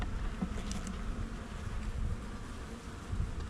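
Honeybees in a brood box with no queen, a steady, dense buzzing hum that holds constant throughout, close up with no other sounds.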